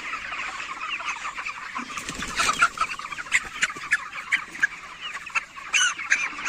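A flock of 29-day-old broiler chickens on a poultry farm, some with a mild cold, clucks and chatters in a dense, steady chorus. Sharper individual calls poke out now and then, with no voices present.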